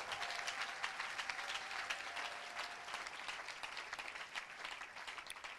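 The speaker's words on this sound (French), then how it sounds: "okoki kobetela nkolo maboko" Church congregation applauding the Lord, sustained dense clapping from many hands continuing evenly throughout at moderate distance, without talk over it.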